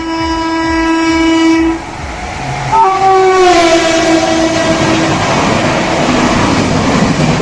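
A train at a local railway station in Bengal, its horn sounding in long sustained blasts over the heavy rumble and clatter of rail cars, loud and close throughout.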